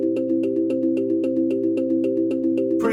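A synthesized step-sequencer MIDI pattern built in Unreal Engine 5.4 Harmonix plays high C octaves on the C and the G: a steady, hypnotic stream of evenly spaced tonal notes over a sustained chord, loud and alone.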